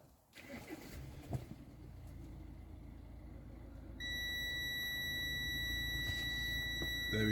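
A multimeter sounds a continuous high continuity beep while checking the ABS wiring on a 2006 Vauxhall Zafira, starting midway and holding steady over low background rumble.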